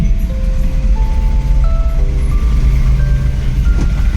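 Busy road traffic around a Tata Ace mini truck in a jam: a loud, constant engine rumble with several horn tones sounding in turn, near and continuous.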